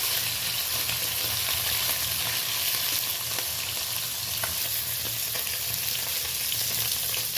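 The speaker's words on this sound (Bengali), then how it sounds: "এই মাছগুলো একটু নরম মাছ একটু সাবধানে ভেজে নিতে হয়" Steady crackling sizzle of small tapse fish frying in hot oil in a wok, close and continuous, with occasional small pops and stirring sounds.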